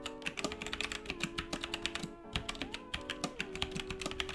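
Steady fast typing on a computer keyboard, a dense run of crisp key clicks with brief pauses, fairly quiet and close, with a faint tonal hum underneath.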